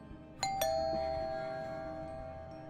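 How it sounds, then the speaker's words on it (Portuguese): A doorbell in a horror video game rings inside a house, two quick chimes struck close together, the second tone ringing on and slowly fading over a quiet room. "o som da campainha ecoa pela casa"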